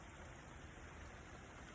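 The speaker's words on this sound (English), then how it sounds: "when it rains like today, isn't it peaceful?" Steady rain on a grey day, an even, close wash of patter and hiss that runs unbroken throughout, with no voices over it.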